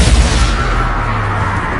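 Confringo blasting spell exploding in a wizard video game, one loud deep boom with a rumbling burst that rolls on briefly.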